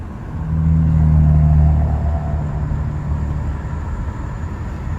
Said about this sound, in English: Downshift from 60 sounds so good.